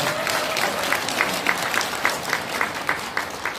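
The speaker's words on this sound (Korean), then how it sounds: "박수 한번 보내주시기 바랍니다." An audience at a Korean political rally applauds with steady, rhythmic clapping, a dense wash of hands beating nearly in unison and holding at an even level throughout.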